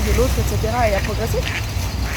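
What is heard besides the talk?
ducks quacking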